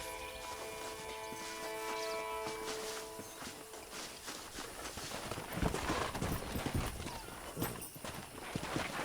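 Steady clip-clop of horse hooves walking in the video game Red Dead Redemption 2, continuous throughout, with faint background music and ambient noise, growing a bit louder toward the end.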